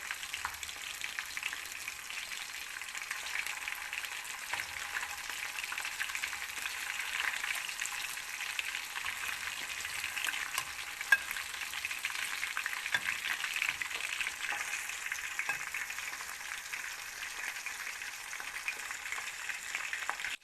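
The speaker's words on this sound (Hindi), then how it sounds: "देखिए हमारी फ़िश कितने अच्छे से फ्राई हो गई है।" Fish frying in hot oil, a soft even crackle and sizzle holding steady throughout, fairly quiet with a single brief tick partway, no talking.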